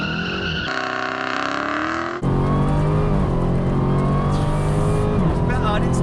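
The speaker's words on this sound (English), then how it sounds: "I'm going to release that paddle and feed in the power." A Dodge Challenger Demon launches from a standstill, its engine rising to a loud, sustained roar that steps up sharply partway through and holds at full power as it pulls away.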